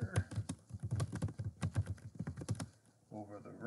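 Rapid, close clatter of computer keyboard keys entering a book title into a citation manager, uneven bursts of keystrokes pausing briefly near the end, with no speech.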